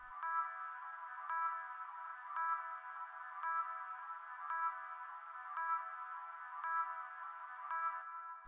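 Bright atmospheric sample with the lows cut and reverb added, a thin sustained tonal pad swelling in soft regular pulses, quiet and continuous without any voices.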